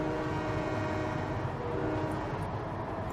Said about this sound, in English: there's another train coming through.